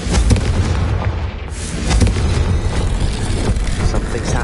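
The Confringo fire spell bursting in the video game Hogwarts Legacy, a loud booming explosion followed by rumbling blasts and crackle that carry on through the moment.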